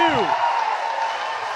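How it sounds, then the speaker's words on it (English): Baseball crowd at a London Majors IBL finals game against the Toronto Maple Leafs, cheering and applauding after a long double scores a run, a steady broad roar throughout the short moment. "You hear the crowd cheering for him right there."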